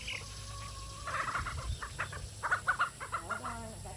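A barnyard flock of mixed-breed chickens clucking, soft calls building into a run of louder, rhythmic clucks and squawks close by.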